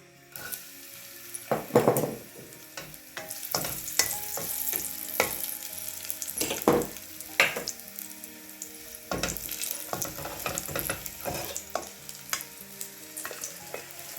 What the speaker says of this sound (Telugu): ఇంకా మంట అయితే సిమ్ములోనైతే పెట్టాను అనమాట అలాగే ఎండు ద్రాక్ష అయితే కూడా వేస్తాను